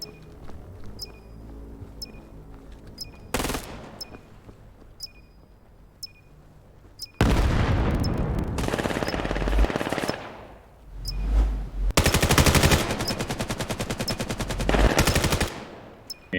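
Gunfire from the video game Valorant in a Vanguard Gaming versus Dark Matter qualifier match. Periodic ticks lead into long, loud automatic bursts at close range, broken by single heavy shots, with no voices.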